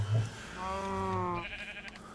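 A Minecraft sheep gives a single wavering bleat, clear and fairly close, following a brief thump.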